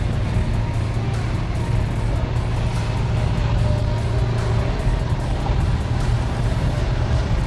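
A car drives along the narrow, winding mountain roads of Gangtok in East Sikkim, giving a steady, loud engine and road rumble that holds level throughout with no talk over it.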